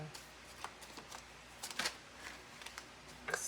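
Tarot cards being shuffled in a few quick riffling bursts, close and fairly soft, with brief pauses between the shuffles.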